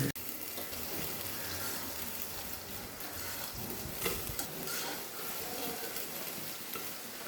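Broccoli frying in a pan gives a continuous soft sizzle with stirring scrapes and a few louder clatters, steady and fairly faint throughout.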